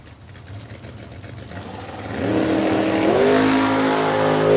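Mustang and Camaro drag race cars at a DoorCar event idle with a low rumble, then launch into a loud rising roar of hard acceleration, with no talk.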